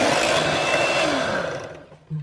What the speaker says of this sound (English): And we'll give that a whisk in.